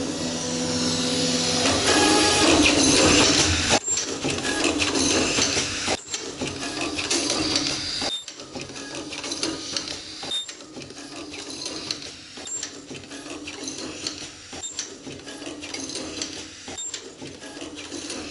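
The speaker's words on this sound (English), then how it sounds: "The machine will be auto running." An automatic ultrasonic metal zipper cutting machine running continuously, a steady mechanical whir with regular rhythmic thumps of the cutting cycle, loud and close with no talk.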